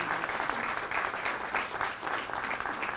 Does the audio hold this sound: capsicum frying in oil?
no